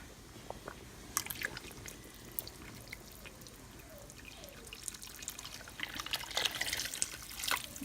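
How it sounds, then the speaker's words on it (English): Water trickles and pours steadily into a pot, with small splashes and drips over a low background hum; no voices. "We're going to add some water"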